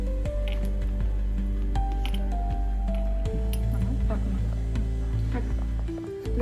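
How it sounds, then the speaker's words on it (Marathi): Pieces of mutton for chops dipped into a wet masala, giving soft, close squishing and dripping sounds beneath a steady low hum and a voice. "हे बघा असं आपल्या मसाल्यामध्ये बुडवून घ्यायचं त्याला"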